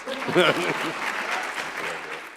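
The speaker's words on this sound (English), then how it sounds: "You can give him a round of applause." A crowd applauds at a College of Medicine convocation and awards ceremony, a broad wash of clapping with a voice briefly heard over it at the start.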